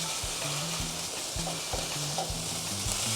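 Food is mashed down with a bowl in a hot frying pan while preparing Russian navy-style macaroni, giving a steady close sizzle with dull pressing thumps and scrapes.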